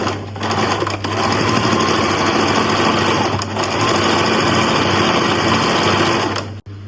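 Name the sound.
sewing machine stitching peplum top front and back together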